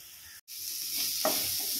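Greens frying in a pan while being stirred, a steady bright sizzle with a brief gap and a short scrape of the spoon, close and alone.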